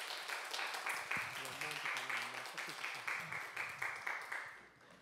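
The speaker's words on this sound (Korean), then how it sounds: "박수 부탁드리겠습니다." A church congregation claps together at a worship service, a steady run of rhythmic applause that gradually fades, with a voice speaking over the start of it.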